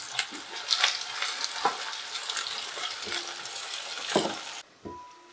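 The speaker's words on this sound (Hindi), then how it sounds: "प्याज को हम कलर चेंज हो जाने तक फ्राई करेंगे।" Thin-sliced onions, two medium ones, fry over a medium flame in hot oil, a steady close sizzle broken by sharp scraping clicks of a spatula against the pan.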